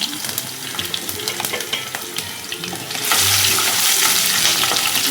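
Mustard seeds, ginger and garlic fry in a hot pan for a Kerala-style pickle, a loud close sizzle with stirring scrapes that surges louder partway through.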